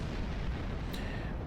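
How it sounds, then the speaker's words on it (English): Big ship explosion in the space game Star Trek Online, a dense low rumbling boom that fills the whole moment with a brief bright crackle partway through, loud and continuous with no talk. "Boom, big explosion."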